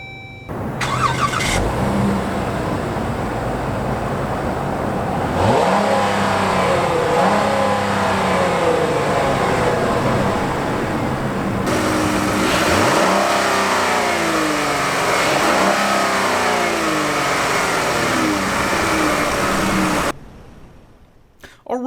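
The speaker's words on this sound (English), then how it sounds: "let's start up this engine here" A 2017 Dodge Journey's 3.6 liter naturally aspirated V6 cranks and starts, then revs repeatedly in several rising and falling sweeps before idling down and shutting off, loud and close with no talk.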